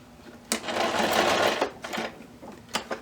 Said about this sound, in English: I'm just going to do a box stitch around it so it stays in place